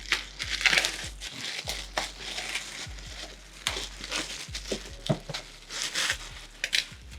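Cardboard and plastic packaging around a set of hair clippers is cut and pulled open with close crinkling, crunching and tearing noises in repeated short bursts, mixed with light taps and scrapes.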